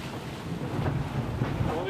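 Strong gale wind roaring at sea on a sunny day, with rough waves and a boat under way; a continuous loud rush of wind buffeting the microphone with low rumbling surges throughout.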